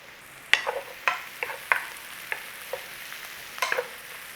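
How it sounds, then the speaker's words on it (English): Mushrooms browning in butter in a pan alongside sausages, giving a soft sizzle punctuated by several sharp clicks and scrapes of stirring, with no talking. "A little browning on these mushrooms if we can."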